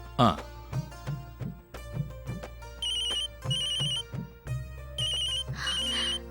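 A telephone rings during a call in a Tamil TV serial, giving repeated melodic ringtone phrases with steady pulsing notes that play loud and clear for over six seconds.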